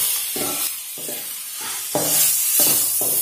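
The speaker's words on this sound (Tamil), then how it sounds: "ஒரு ரெண்டு நிமிஷம் அந்த மசாலாவோடய சேர்த்து நல்லா வதக்கிக்கலாம்." Chicken cooks with masala in a pan for a chicken gravy, stirred in about six rhythmic scraping strokes over a loud, close sizzle and hiss, with no voices.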